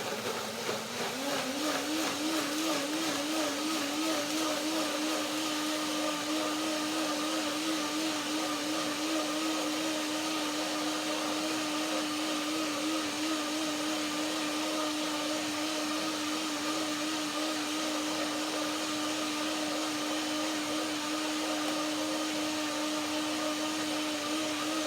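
A loud, steady whir of a blender motor running continuously and evenly throughout, with no talking.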